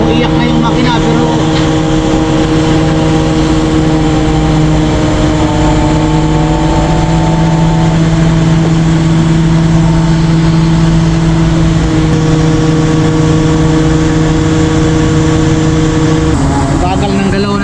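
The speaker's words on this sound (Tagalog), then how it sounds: "Umiyak na yung makina pero" A heavy, steady engine drones loudly while hoisting steel rebars on a construction site, its pitch holding nearly constant and dipping slightly near the end, with no talk over it.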